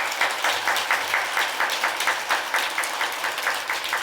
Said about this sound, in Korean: 주님을 위해서 박수 한번 해드려야죠